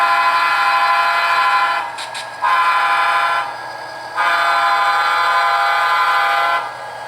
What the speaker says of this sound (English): We'll do a little bit more horn honking.